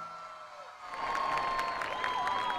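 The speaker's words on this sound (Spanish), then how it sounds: "Aplauso para ustedes," Loud crowd applause and cheering at a live salsa concert at Veracruz's SalsaFest, swelling from a quieter start into dense clapping with whoops and shouts filling the space.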